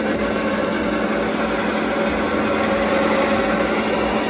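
A Chris-Craft marine engine runs at idle while driving a Paragon P44R transmission under test, a close, loud, steady drone with an even mechanical buzz and no change in pitch or level.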